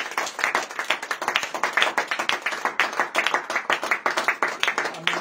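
A church congregation clapping in praise during a fasting and prayer service, with fast, steady rhythmic claps from many hands, loud and close throughout.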